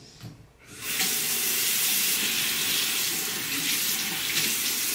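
Water from a bathroom sink tap runs in a steady, close, full-bodied rush that starts after a brief quiet moment and continues unbroken to the end.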